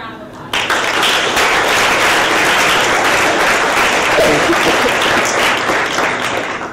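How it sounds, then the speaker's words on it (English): Loud, sustained applause at a student senate general assembly meeting, starting abruptly after a brief voice and filling the room evenly before tapering slightly at the end. "Please give him a round of applause."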